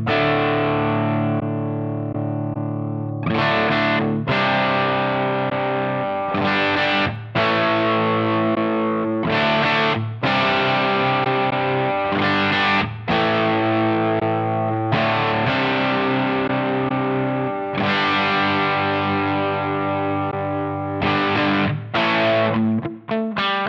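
An overdriven electric guitar through a Helix amp modeler plays chords and riffs in sustained bursts with brief pauses, distorted and loud, with no voices.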